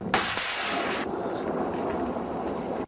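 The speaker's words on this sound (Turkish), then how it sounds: "Bomba yapıp patlatıyorlar roket atarlarla atış talimi yapıyorlar." Militants firing weapons at a training camp: one sharp, loud report near the start followed by a rolling echo and rumble that fades over the next seconds, alone with no talk.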